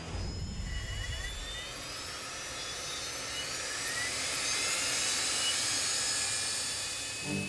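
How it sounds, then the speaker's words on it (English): Subsonics JSX personal jet, a kit-built aircraft with a small modern jet engine, roars steadily and loudly throughout, a broad turbine rush with rising high-pitched whine, no talking. "The Subsonics JSX personal jet is among the first kit-based aircraft derived from a new generation of small, modern jet engines."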